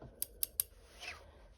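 Scissors snipping fabric for a basic hem, three crisp, evenly spaced cuts close by, followed by a softer swish, with a quiet room behind.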